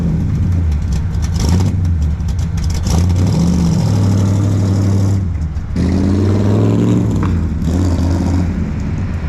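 A classic Mopar car with a new exhaust rumbles loudly at close range, its note rising and falling through a few revs, with one stronger climb partway through. No voices are heard.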